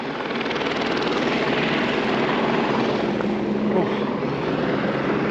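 A helicopter comes in to land in Nepal near Namche Bazar, its rotor and engine roar loud, close and continuous, with a voice talking over it.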